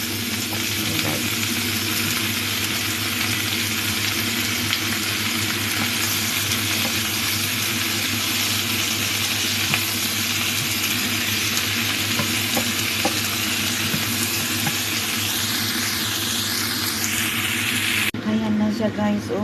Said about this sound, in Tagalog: saka ko igisa na lang yung beef rice